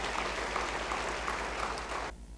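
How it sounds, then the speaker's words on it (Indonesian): A church congregation applauds in a dense, even wash of clapping that holds steady, then cuts off abruptly near the end. "Yang setuju beri tepuk tangan bagi dia."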